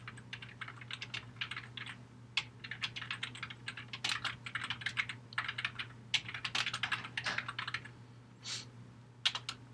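Steady typing on a computer keyboard while writing code, a quiet, close stream of light key clicks in irregular bursts over a faint background hum, with no talking.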